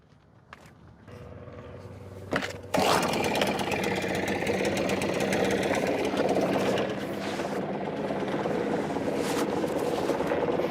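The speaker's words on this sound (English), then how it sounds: "I've got a blower" A small handheld blower motor starts with a brief burst, then runs steadily and loudly at close range as a continuous whirring drone, near an old museum airplane.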